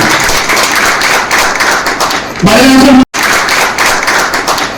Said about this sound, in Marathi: एका जोरदार टाळ्या